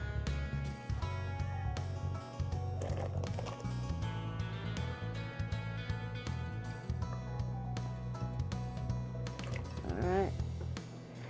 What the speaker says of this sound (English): Let's go ahead and put these in the pot.